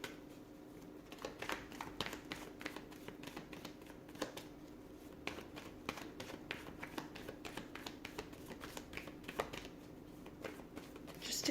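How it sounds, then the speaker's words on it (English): A deck of cards being shuffled and pulled, a continuous run of soft, close riffling taps and flicks with no talking. "So I'm just going to pull a few more cards."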